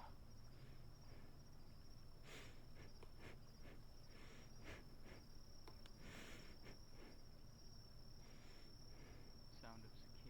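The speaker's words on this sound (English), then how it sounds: "Sound of cicadas, wildlife, bug, leaves move like a shadow in the dark." A steady night ambience of cicadas and crickets keeps up a continuous high buzz and shrill chirping, with faint scattered rustles and ticks of bugs and leaves underneath, quiet and distant throughout, in a fantasy role-play scene.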